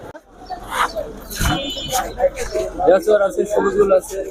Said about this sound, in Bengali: প্রচুর পরিমাণে কবুতর আছে